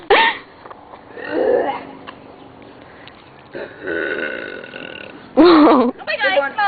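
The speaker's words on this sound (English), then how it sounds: "Burp in my face." A person burps loudly near the end, a short guttural belch that follows stretches of casual voices and laughter in a room.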